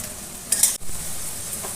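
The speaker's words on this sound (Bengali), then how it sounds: "হাই ফ্লেমে রেখে ভেজে নেব।" Potato and papaya pieces frying over high flame, with a steady close sizzle, a brief bright scrape of stirring near the midpoint, and a short sharp break before the hiss resumes.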